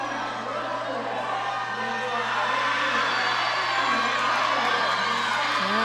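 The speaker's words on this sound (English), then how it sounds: "Everybody's cheering for this one." Spectators cheering at a girls' high school swimming heat, Moorhead vs Elk River, a steady wash of crowd shouts and whoops echoing in an indoor pool hall with a constant low hum beneath.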